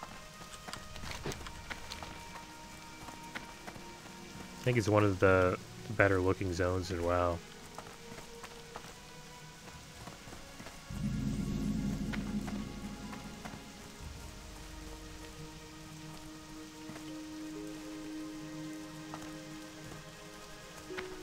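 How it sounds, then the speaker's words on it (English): Steady soft rain falls over the Redridge zone in the World of Warcraft video game, a faint constant hiss beneath someone talking, with a short louder burst of game sound partway through. "it's a rainy day. A rainy evening, I guess you could say."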